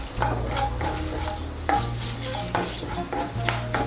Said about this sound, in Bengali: ফোড়নটা দিয়ে একটু নাড়াচাড়া করে নেব।